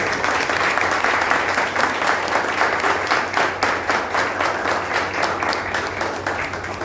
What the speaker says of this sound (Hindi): एक बार आप सब लोगों के लिए मैं ताली बजाना चाहूँगा